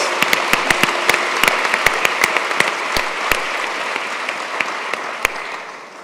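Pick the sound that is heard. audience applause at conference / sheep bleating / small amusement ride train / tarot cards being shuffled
audience applause at conference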